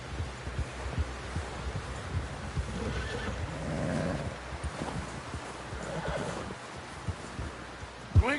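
A horse whinnies in a PS4 open-world western game, a rising and falling neigh over soft hoof clip-clop and low rumbling ambience, fairly close, without speech.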